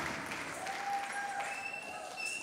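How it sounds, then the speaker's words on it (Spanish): Applause for a band in a concert setting: a faint, dense wash of clapping that carries on steadily throughout, with a few thin tonal sounds above it. "un fuerte aplauso para todos ellos"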